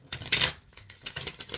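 A new Earth Moon & Shadow Oracle card deck is shuffled by hand up close: a loud burst of cards riffling, then a string of quieter, rapid papery shuffles.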